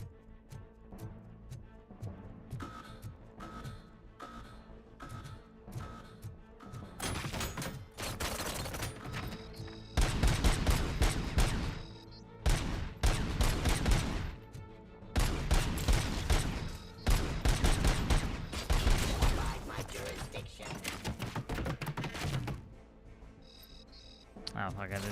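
Rapid bursts of gunfire in RoboCop: Rogue City as droids are shot, loud clustered volleys with short pauses between, building in density midway through.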